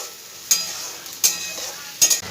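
Masala paste of ginger, garlic and ground tomato frying in a pan for chicken chana masala, a steady soft sizzle broken by three brief louder scrapes of stirring, with no talking.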